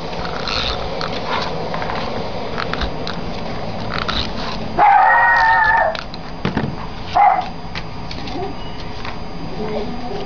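A small female dog of about 7 pounds, kept as a watchdog at home, lets out two barks, the first longer and the second short, over a steady background hum with no talking.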